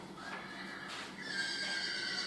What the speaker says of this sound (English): You can hear a horse.